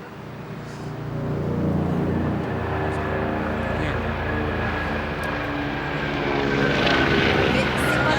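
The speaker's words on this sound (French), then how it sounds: "Mais c'est pas l'hélicoptère de ta sœur?" A helicopter sits close by, its rotor throbbing steadily beneath a strong engine whine, loud and continuous. Voices speak over it.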